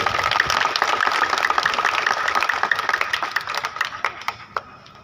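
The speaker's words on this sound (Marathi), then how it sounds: "एकदा निलेश भाऊसाठी सर्वांनी टाळ्या वाजवायच्या" Audience clapping at a grand public felicitation held by housing-society residents in honor of a local award winner: dense, steady applause from many hands that thins out toward the end, with a few sharper individual claps standing out.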